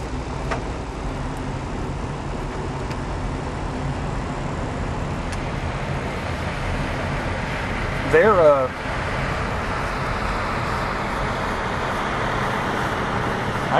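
Low, steady engine drone and rumble of seismic survey shaker trucks working near a road by a lake in Texas hill country, heard at a distance with a brief louder passing sound midway.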